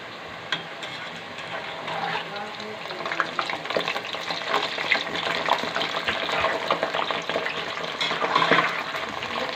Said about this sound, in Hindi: ऑयल में बबल्स बनना स्टार्ट हो गए हैं, तो हमारे चिप्स तैयार हो रहे हैं